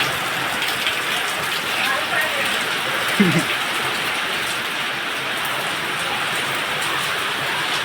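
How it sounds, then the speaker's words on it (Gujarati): Steady rain patters and hisses throughout, with a short voice sound rising briefly through it partway in. "વરસાદ આવ્યો."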